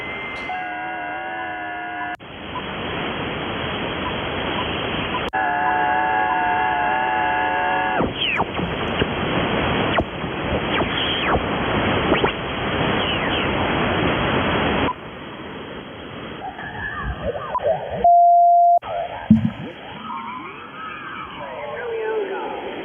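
Static hiss from an HF amateur radio receiver on an Icom IC-7610 station: broadband noise that shifts in texture, with whistling carriers and brief tuning sweeps. A short dropout near the end, and no voices.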